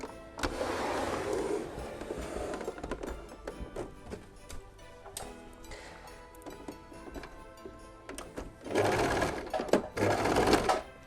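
A sewing machine stitches the seams of a double elf stocking in short, fairly quiet bursts of rapid whirring, with a longer louder run near the end and small handling noises between.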